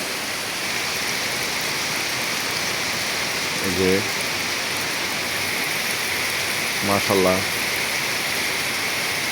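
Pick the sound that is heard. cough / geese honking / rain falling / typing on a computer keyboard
rain falling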